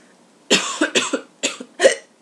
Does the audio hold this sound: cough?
yes